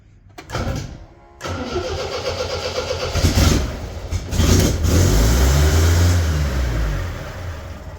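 The engine of a 1973 Cadillac with a stuck throttle cranks without starting, giving loud, close, uneven churning bursts that run on for several seconds after a brief pause near the start.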